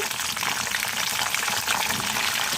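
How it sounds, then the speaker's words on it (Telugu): Curry leaves and green chillies sizzle in hot oil for a mango and raw banana curry, a steady loud frying hiss throughout with no talking. "ఆయిల్ వేడవిందండి. కరివేపాకు, పచ్చిమిర్చి,"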